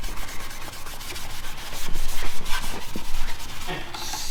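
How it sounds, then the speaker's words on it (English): Steady, rough scraping of hand sanding a rough wood edge, quick back-and-forth strokes that swell louder midway, close up with no talking. "Now we'll just kind of hand sand around it, get that rough edge off"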